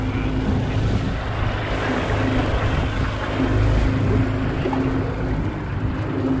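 A motorboat tows a small stranded boat whose electric motor has died, with a steady loud engine drone and rushing wind and water noise throughout.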